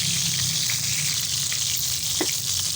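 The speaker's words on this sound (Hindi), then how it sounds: "मोती हमारे जो हैं चिकन कीमे के मोती वो फ्राई हो रहे हैं" Chicken mince balls (moti) sizzle in hot oil for pulao, a steady loud crackling fry with a brief stir or bubble burst near the end and no voices.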